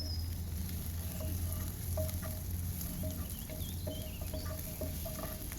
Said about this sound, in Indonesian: kita masukkan bawang merah iris. Kemudian kita akan tumis hingga harum.